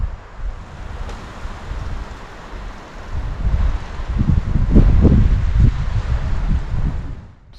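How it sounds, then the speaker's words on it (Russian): A sudden cold gust sweeps through pine treetops in a deep forest, a steady broad rushing that swells to a loud roaring peak toward the end, with no talk. "резкий порыв холодного ветра. И закачались макушки сосен."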